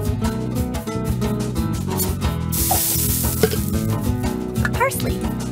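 Ground lamb and onion sizzling and being stirred in a frying pan in a children's cartoon kitchen game, a bright hissing fry beneath loud, continuous background music.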